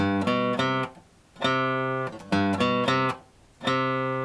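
A guitar plays an intro riff, low ringing notes on two strings in short plucked groups with brief gaps between phrases, clear and close.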